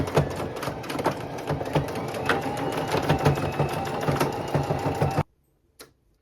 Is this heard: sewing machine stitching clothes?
yes